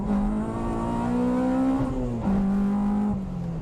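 A Honda Civic Type R EP3 engine revs high and strong, pitch climbing steadily, then dropping briefly at a quick gear change before pulling up again, loud and close from inside the car.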